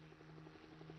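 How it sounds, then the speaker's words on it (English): A helicopter from the visual novel Steins;Gate 0, a steady low rotor hum with a faint rhythmic thump, quiet and distant, with no voices. "She could hear a helicopter."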